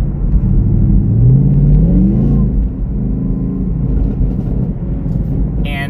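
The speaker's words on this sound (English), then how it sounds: "But I love driving this car, so I'm gonna take her for a little rip" A car's engine revs while driving, with a deep rumbling drone and one clear rise in pitch as it accelerates, loud and close throughout.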